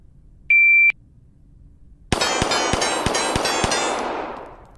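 A shot timer beeps once, then six pistol shots are fired at targets in quick, evenly spaced succession, each loud and sharp with a trailing ring that fades out.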